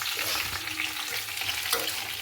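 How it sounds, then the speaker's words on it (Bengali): Cauliflower frying in oil in a pan for a Bengali vegetable curry, a continuous bright sizzle with occasional stirring scrapes, close and steady with no talking. "এখানে হচ্ছে ফুলকপি ভাজা হচ্ছে"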